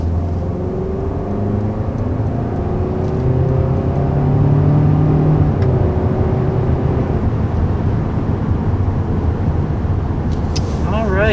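A 2020 Hyundai Sonata with the 1.6-liter turbo engine pulls away, its engine drone rising steadily from inside the cabin while someone talks over it.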